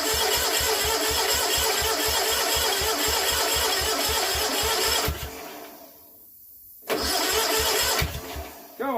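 An old Kohler twin engine, freshly given a valve job and service, cranks with a rapid rhythmic chugging for about five seconds, stops briefly, then turns over again loudly, close to the microphone.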